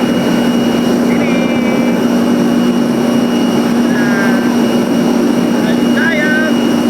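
A steady, loud roar from a nearby parked airliner's jet engine hums continuously on an airport apron, with a few faint chirps over it. No one speaks.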